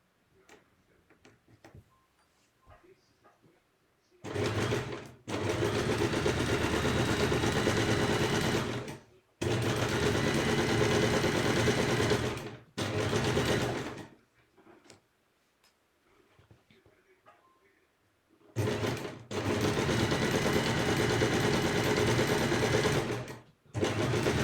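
A sewing machine stitches applique fabric around a curved shape in several bursts of fast, even clattering, separated by short pauses of near quiet.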